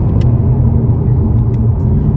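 Steady low engine and road rumble inside a Mazda 3 Skyactiv-X automatic taking corners, a constant droning hum with faint ticks over it, heard from the cabin.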